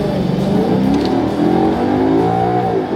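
A 2008 Maserati Quattroporte accelerates hard, its engine note climbing steadily and loud throughout a continuous close-up pull, with no talking.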